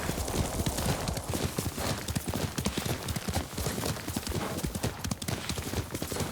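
Horse hooves clip-clopping in the video game Ghost of Tsushima, a dense, continuous run of loud close hoofbeats on hard ground, with a brief whinny possible.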